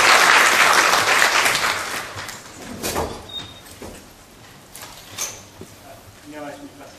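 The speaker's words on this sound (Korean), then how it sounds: "박수로 맞이해 주시기 바랍니다" An audience at a forum on urban hanok housing applauds to welcome the discussion chair, the clapping loud at first and fading after about three seconds, followed by a few scattered claps, shuffling sounds and a voice.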